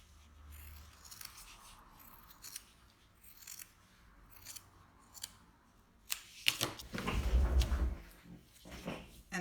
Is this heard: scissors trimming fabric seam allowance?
yes